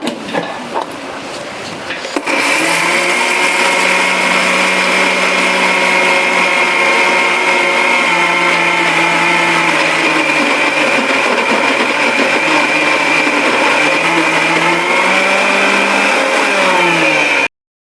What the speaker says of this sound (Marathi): धने, मिरची पावडर, कढीपत्ता, मीठ हे एवढं एकत्र बारीक करून घ्यायचे